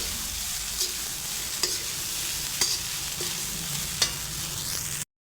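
Kolhapuri khushka rice mixed in a hot pan, with a steady frying hiss and a few sharp spatula scrapes against the metal, close and even, ending abruptly.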